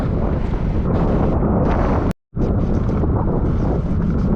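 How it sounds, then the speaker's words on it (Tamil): Strong wind buffets the microphone while cycling near Manakudi bridge in Tamil Nadu, a loud, continuous roar, briefly cutting out for a moment before gusting back in. "காற்று தாங்க முடியல."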